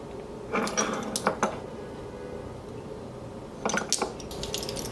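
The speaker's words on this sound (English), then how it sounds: "First thing we want to do is beat the egg." An egg beaten with milk in a bowl, heard as two brief bursts of quick, close clinking and scraping of a utensil against the bowl, separated by a quieter pause.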